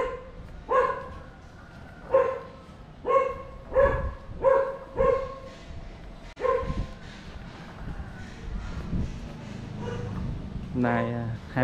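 A dog barks about six times at a steady rhythm in a rural village along an embankment road in Bình Đại, Bến Tre, Vietnam, clear and fairly close, then gives way to softer outdoor noise and a few faint yips.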